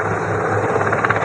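Navy helicopter flying during a MARCOS insertion and extraction demonstration at a Navy Day event in Visakhapatnam, its steady loud rotor drone filling the air throughout.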